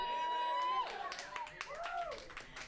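Live studio audience cheering and calling out in a local Austin music studio, a loud burst of mixed voices with clapping that fades into lingering crowd chatter.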